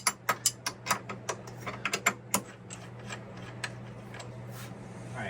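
A wrench loosens carriage bolts that hold a servo motor for an industrial overlock serger sewing machine to a table, giving a quick run of sharp close ratcheting clicks that thin out into quieter scattered ticks over a low steady hum.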